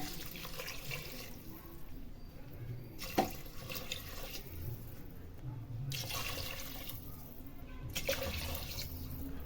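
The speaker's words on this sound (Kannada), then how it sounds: "ಈಗ 5 ಗ್ಲಾಸ್ ನೀರು ಹಾಕಿದ್ದೇನೆ ನಾನು." Water pouring steadily into a pot of Sona Masoori rice for pulao, a continuous splashing, running-water sound close by with a few brief louder surges and no talk.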